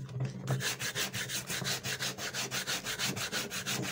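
A leather sole surface is roughened by hand for shoemaking, with close, steady rasping strokes repeating about five times a second, each a brisk scrape.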